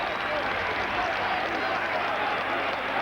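Rugby league crowd roaring and applauding a try at a 1996 Oldham versus Leeds match, a dense, steady wall of cheering that stays loud throughout with a commentator talking over it.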